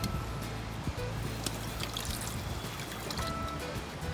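Dishes rinsed off after a soapy dish pan at a camp, with soft continuous trickling and splashing water over low background noise, faint and steady throughout with a few small clinks.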